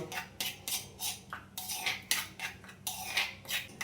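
Poppy seed paste and spices being mixed with mustard oil in a bowl, with a series of close, sharp scraping and clinking strokes at an irregular rhythm and no voices.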